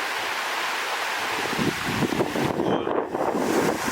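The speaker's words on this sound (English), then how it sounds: "Extremely windy." Strong gusts buffet the microphone outdoors on the Rio Bueno River, a loud rumbling roar that swells and surges, with water faintly lapping beneath.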